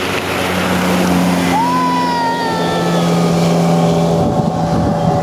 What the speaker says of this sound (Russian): Мотор Yamaha 15 двухтактная